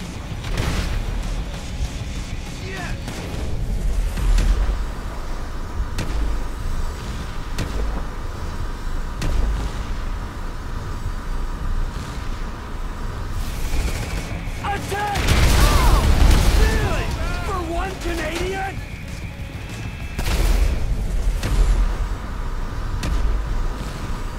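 A tank in GTA V fires amid explosions, with dense, continuous game noise building to heavy booming bursts around the middle and again near the end.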